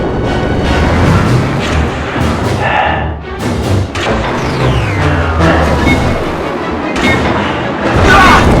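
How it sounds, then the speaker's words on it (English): Loud phaser and gun blasts with heavy booming thuds and impacts in a Star Trek video game battle, rapid repeated shots close up over a dense noisy background. "Sir, we can shoot the vents to create cover."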